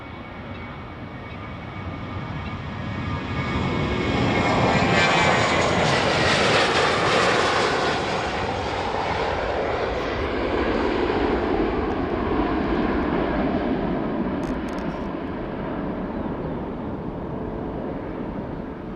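A Ryanair airliner departing Faro Airport for Porto, its jet engines roaring loud and sustained as it passes and slowly recedes into a broad, fading rumble.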